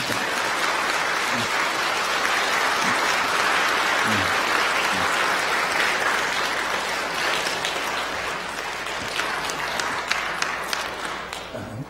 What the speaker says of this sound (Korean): 감사의 박수 한번 보내드릴까요?